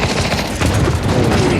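Gunfire from a Counter-Strike esports match in overtime, a dense rapid burst of shots running continuously through the whole moment at steady loudness, with crowd and caster noise mixed underneath.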